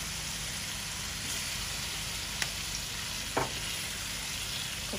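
Potatoes frying in a pan alongside tilapia and chicken liver, a dense, even sizzle running throughout with a couple of brief stirring scrapes, close and steady with no voices.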